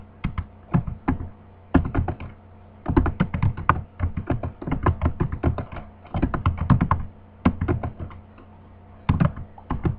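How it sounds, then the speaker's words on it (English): Rapid typing on a computer keyboard, with close, crisp key clicks arriving in irregular bursts and brief pauses throughout, and no voice over it. "typing away."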